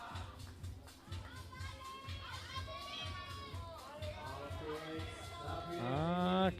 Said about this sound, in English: Her friends are cheering very well.